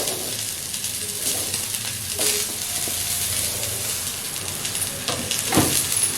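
Long strips of snake gourd frying in a little oil give a steady close sizzle and hiss, broken by a few sharp stirring clatters against the pan.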